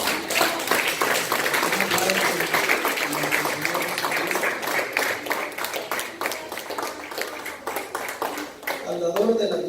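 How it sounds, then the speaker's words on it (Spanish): Church congregation applauding, dense sustained clapping that fills the whole stretch, with voices mixed in beneath it. "Un aplauso a él, hermanos."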